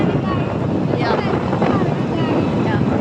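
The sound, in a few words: riding a scooter, wind noise on road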